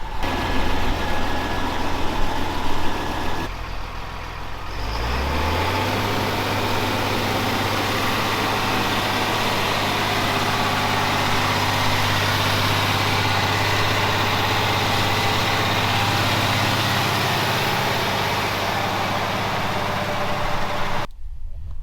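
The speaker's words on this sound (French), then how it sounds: "Bah allez, on retourne dans le tracteur." A tractor engine idles steadily with a deep, low rumble, close by and continuous, with a brief change in pitch near the start before it settles into a constant drone.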